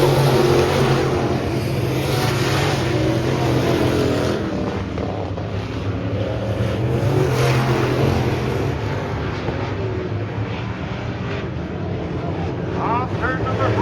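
Race cars roaring around an oval track toward the checkered flag, a dense, steady engine drone with wind buffeting, loud and continuous throughout.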